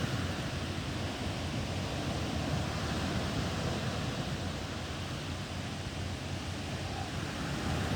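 Steady broadband roar of sea waves washing onto the shore, continuous and fairly loud with no distinct breaks, alone without voices.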